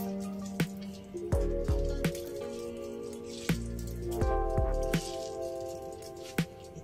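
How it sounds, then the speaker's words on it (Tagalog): Lemon squeezed over baked pompano fish, with soft wet drips and small squishes landing in a quiet kitchen, some faint clinks mixed in, and no talking. "kailangan din natin siyang i-squeeze ng lemon"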